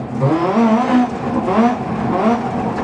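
A rally car engine in DiRT Rally 2.0 revs up and down repeatedly, its pitch rising and falling as gears shift.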